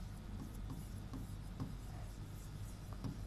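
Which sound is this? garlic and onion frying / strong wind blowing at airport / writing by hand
writing by hand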